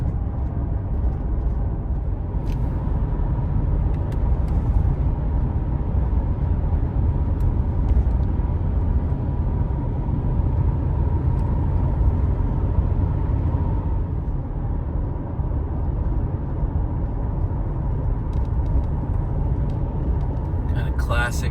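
Car driving along remote canyon roads in the Wyoming interior, a steady road and engine rumble that stays constant and loud throughout, with a person speaking over it.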